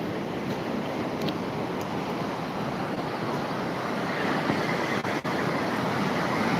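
Sea waves break on the beach at Pudimadaka in a continuous, broad roar of surf, loud and close, with a constant wash of wind and no voices.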